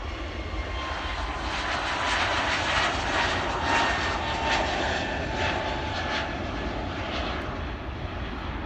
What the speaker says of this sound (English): I love the sound of the roar from the British Airways Airbus A320neo